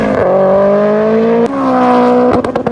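A loud Evo car engine holds a steady high rev, briefly dips, revs back up, then the clutch drops with a sharp stuttering lurch at the end.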